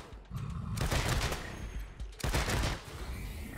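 Gunfire erupts in the video game Wasteland 3, with two dense bursts of rapid shots separated by a short lull, loud and close.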